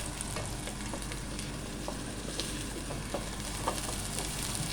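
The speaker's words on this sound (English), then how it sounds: "Saute it. Increase the flame." Spinach sambar ingredients sauté in a pan over a raised flame, giving a dense, continuous close sizzle with intermittent spoon scrapes and small pops, steady in level from start to finish.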